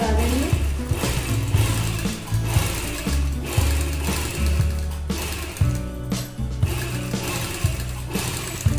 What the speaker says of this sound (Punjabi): ਇੱਥੇ ਬਿਲਕੁਲ ਧਿਆਨ ਨਾਲ ਜਿਹੜੀ ਆ ਸਿਲਾਈ ਲਗਾ ਦੇਣੀ ਹੈ